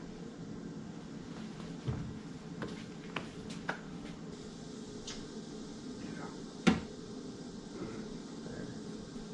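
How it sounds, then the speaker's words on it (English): A wooden door being fitted into a walnut nightstand in a woodshop, producing scattered faint knocks and taps with one sharper wooden clack near the end, over a steady low room hum. "let's set this door in here and see how it aligns"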